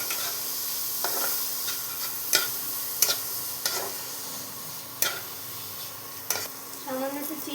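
A spoon stirs grated paneer into a potol dorma filling in a pan, a soft continuous sizzle broken by sharp, regular scrapes and taps against the metal, fairly close.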